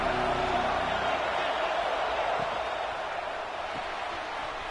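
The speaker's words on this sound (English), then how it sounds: "This crowd ready to make its presence known." Football stadium crowd cheering, a loud broad roar that holds steady and slowly eases over several seconds without talk.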